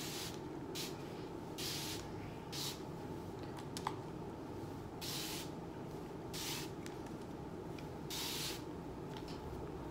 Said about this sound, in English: I'm about to use my lavender hair spritz and just moisturize